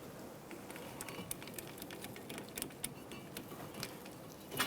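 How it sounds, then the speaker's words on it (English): An 11mm wrench tightens a front brake caliper bolt on a 2013-2018 Toyota RAV4, giving faint, irregular metallic ticks and clicks close by, with a slightly louder clatter at the end. "so I'm going to get a wrench and tighten that up"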